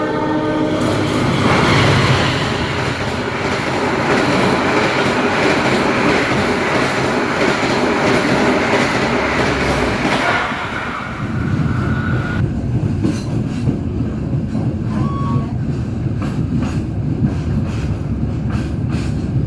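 The Sembrani passenger train from Surabaya Pasar Turi passes straight through a station on track 3 in Indonesia, rumbling loudly with clattering wheels and a blaring horn, then the roar drops to a steadier rolling hum.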